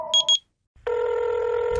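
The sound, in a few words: telephone ringing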